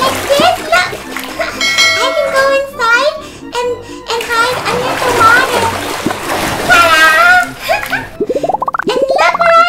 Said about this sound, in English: Like, can I splash water?